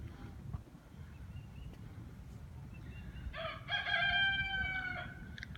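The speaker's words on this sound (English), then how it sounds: "Love the chickens." Chickens and a rooster in a residential neighborhood in Crozet, Virginia: a loud multi-note rooster crow rises at mid-clip over a low outdoor rumble, with faint clucking before it.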